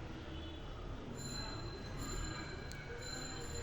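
A metro rail train at a station platform in Dhaka, with a steady broad rumble of rolling wheels and faint high wheel squeal running throughout at close range, with no voices.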